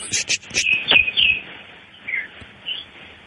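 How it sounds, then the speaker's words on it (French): Bright bird chirps and short whistled calls nearby in Mauritius, several in quick succession and then a couple of fainter ones, with a soft background. "t'entends les oiseaux autour de moi"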